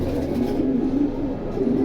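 Several pigeons for sale in a market coo nearby in a low, unbroken burbling drone that carries evenly from start to finish without speech.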